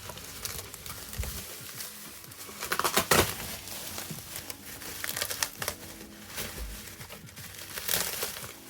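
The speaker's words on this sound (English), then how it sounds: "This is a big pile of bubble wrap. Let's just unfurl it." A large pile of bubble wrap from a merchandise parcel is unfurled, giving continuous close crinkling and rustling with a few louder crackling bursts along the way.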